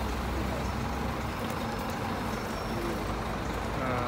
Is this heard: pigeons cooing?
no